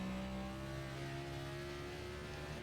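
A NASCAR NextGen race car engine in the iRacing simulator holds a loud, steady high-revving drone, with a faint shift in pitch partway through, heard alone and close.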